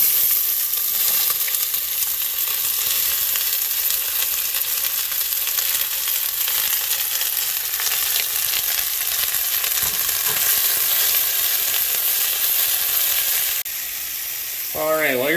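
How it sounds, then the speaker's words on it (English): Onion, garlic and bell pepper sauté in a hot pan for lobster bisque, giving a loud, steady sizzle and crackle that runs unbroken throughout, with no talking. "we're going to add this to a hot pan and start sauteing it"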